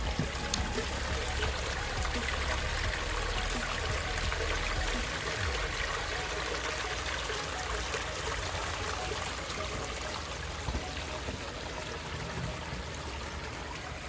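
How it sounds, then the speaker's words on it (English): A small backyard waterfall about five feet long, running over large rocks, makes a steady, continuous rush and splash of flowing water at moderate volume, with no breaks throughout. "you get a view of this gorgeous waterfall"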